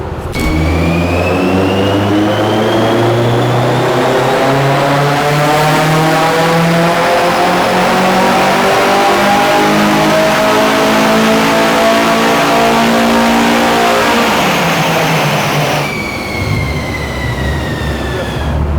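A tuned Renault Clio engine revs up to 7000 rpm, a loud, continuous climbing whine with rising harmonics over about fifteen seconds, then dropping sharply as the throttle closes and settling back toward idle.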